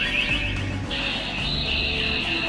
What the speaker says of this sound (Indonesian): ini suara khas dari berubahnya Ultraman Mbah